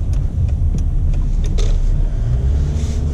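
A 2003 Mercedes E320 CDI diesel sedan turns around on the road, its steady low engine rumble and tyre noise continuous throughout, with a few faint clicks above it and no talking.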